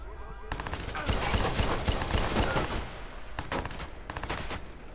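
Sustained gunfire in the video game Watch Dogs comes as rapid automatic bursts with a brief lull in the middle, loud and close, in a dense crackling volley.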